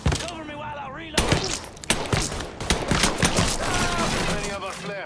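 A Mafia 3 Definitive Edition gunfight, with repeated sharp gunshots and scattered volleys cracking through a noisy scene, mixed with shouted voices of people talking over the shooting throughout.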